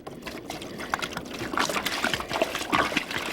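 Water is poured from a container into a masonry tub used for gold panning in the desert, producing an uneven, close splashing and trickling that grows louder midway, with no talk over it.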